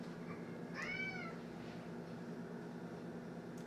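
A house cat lets out a single clear meow partway through, in a home kitchen during cooking, over a steady low background hum.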